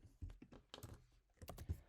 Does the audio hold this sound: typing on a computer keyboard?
yes